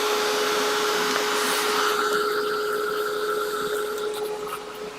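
Steady loud whir of a hair dryer blowing on a freshly painted beard, close and continuous with a faint tonal hum, tapering slightly near the end, no talking.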